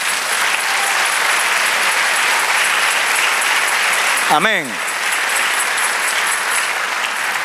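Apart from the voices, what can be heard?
congregation applauding in church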